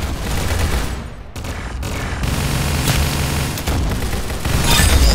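Loud, continuous video game gunfire during a competitive match, dense bursts of shots and booms packed together with barely a gap, close and harsh throughout.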